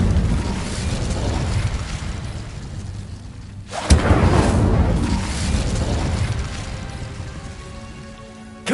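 The Incendio fire spell in Hogwarts Legacy lets out a sudden whooshing blast midway, then a roaring, crackling burn that fades gradually, loud and close.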